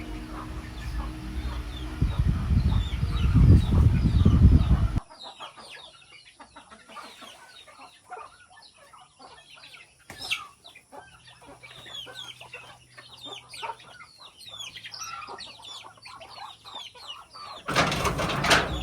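Chickens cluck and chatter steadily at a moderate distance, with occasional louder calls, framed by bursts of rumbling noise at the start and end.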